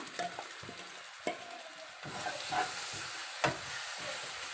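Ground coconut is stirred into a simmering chickpea gravy for Kerala-style puttu, with a soft steady sizzle and a few sharp spoon scrapes against the pan. No one speaks.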